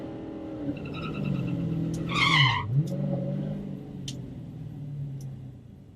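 A drag racing car launches off idle at a Mopar Fest bracket race: engine drone, a sharp rising tire squeal and revving burst at launch, then a sustained engine note, with a few faint clicks.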